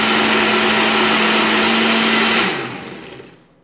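A countertop blender whirs loudly while blending a smoothie, a steady high-pitched motor roar that holds for over two seconds before spinning down and fading to quiet.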